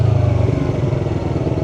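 A Yamaha R3 motorcycle engine idles down after the throttle is released, a steady low putter with a fast regular pulse, close and fairly loud, with no talk over it.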